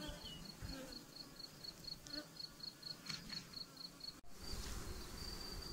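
Honeybees buzz at a beehive in an apiary, a close, steady drone with pulsing wingbeats as individual bees fly near. A brief bump interrupts it midway, and no voices are heard.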